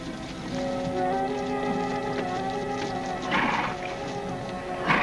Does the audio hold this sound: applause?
no